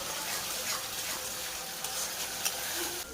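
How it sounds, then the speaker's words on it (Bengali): Ginger-garlic paste frying in a pan while being stirred for an egg and cauliflower curry, a steady close sizzle with light scraping and a few brief clinks, no talk. "এবার আমি আদা রসুন বাটা দেব। এটাকে দিয়ে আমি একটু কষে নেব।"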